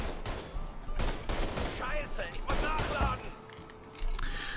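Dense gunfire from the video game Mafia 3 rattles almost without pause, with bursts of automatic shots and sharp single reports layered over game sounds, loud and sustained throughout.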